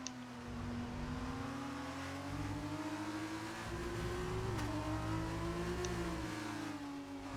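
F2 race cars lap through a chicane at the Hungarian GP in a racing video game, their engines a loud, steady drone that dips and climbs in pitch as they brake and accelerate, with no talking.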